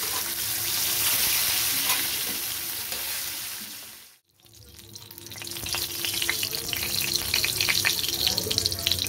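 Boal fish frying in oil for a mustard fish curry: a steady close sizzle fades briefly to near silence, then resumes crackling and spattering as fresh pieces go into the pan.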